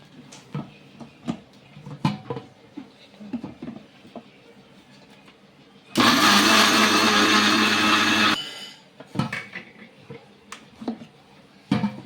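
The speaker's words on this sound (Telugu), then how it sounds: "ఇలా వేసుకొని మిక్సీ పట్టేసుకుందాం" A kitchen mixer grinder blends homemade cleaning powder, a loud steady roar lasting about two and a half seconds, set between quieter scattered clicks and handling knocks.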